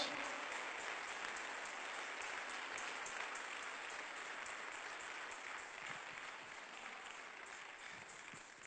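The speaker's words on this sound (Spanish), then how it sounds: "Denle un fuerte aplauso al Cristo de la gloria." A church congregation in Portland, Oregon applauds during a sermon, a steady wash of clapping that sounds faint and distant from start to finish.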